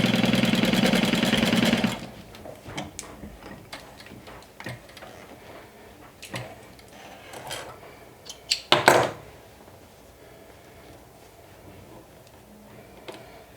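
A sewing machine runs a quick burst of top stitching along fabric ends, then stops, leaving scattered ticks, clicks and handling knocks.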